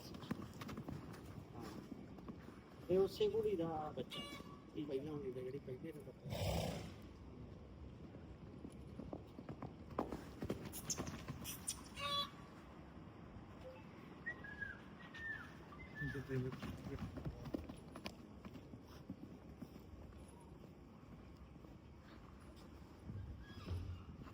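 Marwari horses walk on a farm, hooves clip-clopping in irregular, fairly faint steps while people talk nearby.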